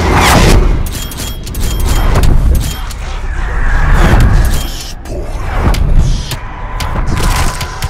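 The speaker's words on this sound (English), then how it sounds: "Artillery on my mark." Artillery strike in Call of Duty: Black Ops Cold War Zombies mode, a loud sustained barrage of heavy booms and thuds rolling continuously over about eight seconds, with overlapping blasts and clatter dense throughout.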